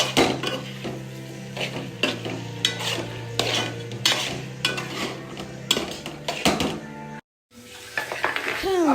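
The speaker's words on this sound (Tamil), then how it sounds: "இப்போ சோயாவும் சில்லி ஊற்றாச்சு. இப்போ வந்து நல்லா கிளறி விடலாம்." Food stirred in a pan after soy sauce and chili are added, for fried rice, with repeated metal spoon scrapes and clinks over a soft sizzle, close and busy, with a brief drop to silence near the end.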